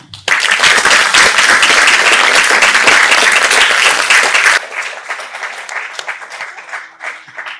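Audience applause after a poem reading at a PhD symposium closing ceremony, a dense, loud burst of many hands clapping that cuts off sharply partway through, leaving scattered faint claps and murmurs trailing after.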